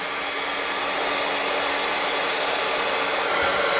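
A heat tool blows a steady, loud whooshing hum while melting embossing powder on handmade paper earrings, continuous with no speech.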